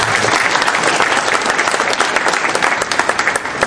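A conference audience breaks into dense, sustained applause, many hands clapping together at steady loudness for a few seconds with no talk over it.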